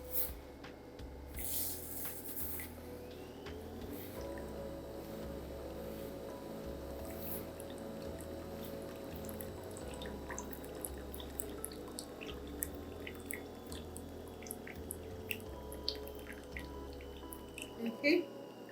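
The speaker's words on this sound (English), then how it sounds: "I'm just gonna stick it in and froth up my milk and cream" A cheap handheld milk frother whirs as it froths milk and cream, a steady low motor hum with drips and splashes throughout, while a person talks over it.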